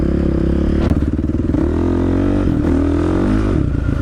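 A two-stroke dirt bike rides along a trail, its engine loud and close as it drones and revs steadily throughout, with some rattling and clatter from the rough ground.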